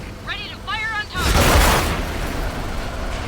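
A tank cannon fires in World of Tanks, a loud, broad blast that swells and rumbles for about a second before fading into lingering noise. Short warbling electronic tones come just before it.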